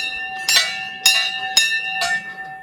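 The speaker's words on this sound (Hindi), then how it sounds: "पापा घंटी बजा रहे हैं।" A temple bell at Sem Mukhem Nagraja Temple is struck four times at a steady pace, each bright metallic ring sustaining and overlapping the next, close by with faint background noise.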